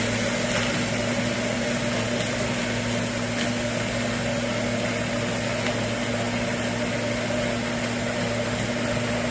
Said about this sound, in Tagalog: sa blender pala, is gumagamit tayo ng GTC OmniBlend 5 to make sure na maging smooth talaga yung fraps